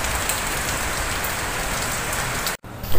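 Heavy rain pours steadily on the grounds and roofs of a school, a dense, loud, even hiss that drops away for a moment near the end and then comes back.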